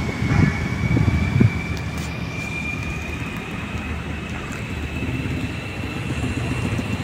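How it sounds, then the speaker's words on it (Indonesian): An airport train running from Solo Balapan toward Adi Sumarmo Airport, heard as a steady rumbling roar with a thin sustained whine, at a constant level and moderately distant, with no voices. "Ini adalah kereta bandara yang melintas dari Solo Balapan menuju Bandara Adi Sumarmo."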